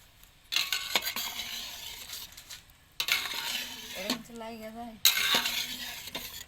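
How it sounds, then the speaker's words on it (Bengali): Pasta being stirred in a pot of boiling water, three bursts of clattering spoon-on-metal scraping and swirling with brief pauses between, close and moderately loud, a voice faintly present. "পাস্তাটা এরকম নাড়া দিয়ে রাখতে হবে"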